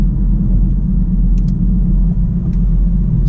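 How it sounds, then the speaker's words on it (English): A BMW fitted with an SMG 3 transmission rolls down through the gears, its deep, steady engine rumble droning loud and close in the cabin with a few faint ticks over it. "I'm just going to slow down a couple of gears."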